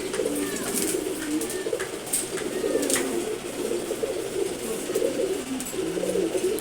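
A male Sobji Gorra pigeon coos in repeated low, throaty phrases close by, with faint chirps and background noise around it and no talk.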